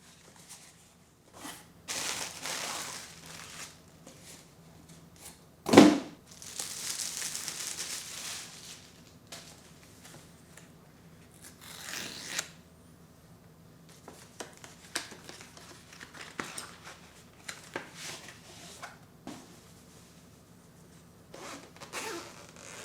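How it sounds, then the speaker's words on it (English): A GoPro Hero 9 camera is unboxed in quiet surroundings, with soft scattered rustles, crinkling packaging and small handling clicks, plus one sharp louder snap near the middle. No one speaks. "So let's unbox."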